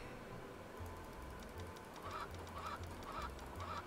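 Repeated honking fowl calls from a chicken in a farming video game, steady rhythmic clucks over a constant game music bed, loud and close.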